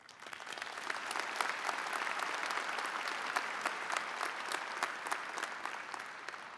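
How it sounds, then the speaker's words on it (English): Graduation convocation audience applauding in a large hall, a dense continuous patter of many hands, fairly distant and steady, swelling slightly and holding for several seconds. "for that, you deserve an applause"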